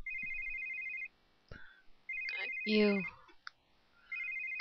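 A phone ringing in the video game The Sims 3, a repeating electronic trill in short bursts, with game sounds and a brief voice in between.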